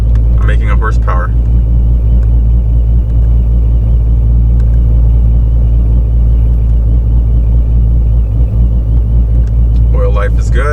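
A car with a 426 engine warms up and runs at a steady idle, a loud, constant low rumble that holds throughout, with brief voices near the start and end.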